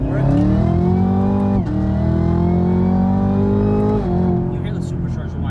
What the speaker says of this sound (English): you hear the supercharger whine a lot more